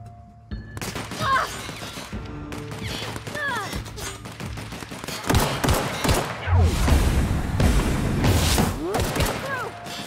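Pistol gunfire in The Outer Worlds game, a series of sharp shots and impacts scattered across the scene, growing busier and louder toward the end amid other combat noise.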